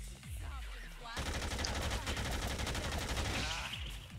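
Rapid bursts of gunfire in Dead Rising 2 erupt after a quieter opening and keep up as a dense, loud volley for several seconds, thinning near the end, with a voice faintly under the shooting.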